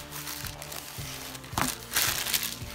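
Plastic foil wrapper crinkling and crunching as it is pulled off a trading-card magazine, with several sharp rustling bursts, fairly close and moderately loud.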